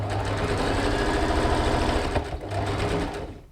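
A sewing machine stitches over the seam of a t-shirt neckband, a loud, close, steady rapid hum of the needle that pauses briefly and then resumes before stopping.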